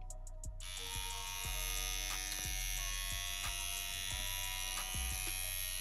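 Steady electric buzz of a tattoo machine with a cartridge installed, running close and loud with a constant hum and regular pulsing ticks, after a few short clicks at the start.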